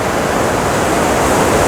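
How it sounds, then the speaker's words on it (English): River water rushes loudly through the meadows of Färnebofjärden National Park, a dense, steady roar of broadband noise with no breaks and no voices. "The water is making quite a bit of noise"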